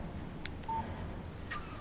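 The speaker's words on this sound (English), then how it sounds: "Text message from Barry" A phone text message alert in Alan Wake Remastered sounds as a few short electronic beeps and tones over a quiet background, brief and clear.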